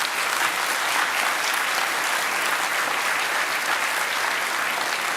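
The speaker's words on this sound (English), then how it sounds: "please join me in applauding the speakers" Conference attendees applaud the speakers at a closing session, a dense, even wash of many hands clapping at steady loudness from start to finish.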